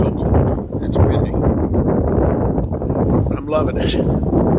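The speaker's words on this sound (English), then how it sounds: "It's windy." Steady wind buffets and rumbles across the microphone at a backcountry campsite in Algonquin Park, with a faint rustle and flutter throughout.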